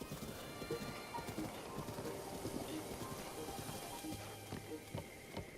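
A horse gallops steadily in The Legend of Zelda: Breath of the Wild, with rapid hoofbeats throughout and a short neigh near the end, under a faint patter like rain.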